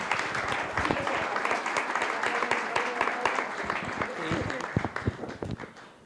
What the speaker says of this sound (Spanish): Un aplauso para Gaby, que encontró la información verdadera.